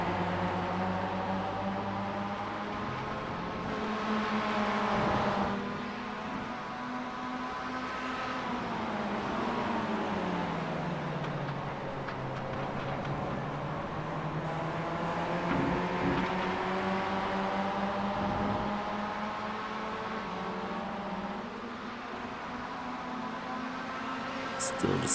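Race cars at Daytona in a 24 Hours of Lemons endurance race, a blend of distant engine drones rising and falling together over about twenty-five seconds at moderate, slightly muffled loudness.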